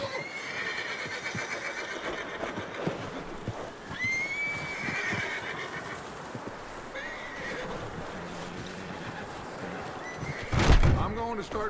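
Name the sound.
horses neighing in video game Red Dead Redemption 2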